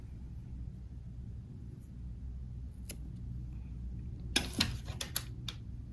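Shears or scissors snip through garden plant stems carrying black swallowtail chrysalises, with a few quick, close clipping sounds late on over a low background rumble.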